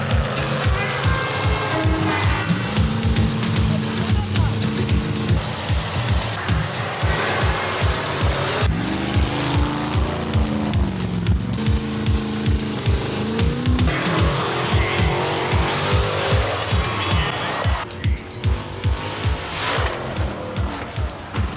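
Monster truck engine roaring and revving at a monster truck event, loud and continuous with rising and falling engine pitch and tire noise over a constant crowd din, no speech.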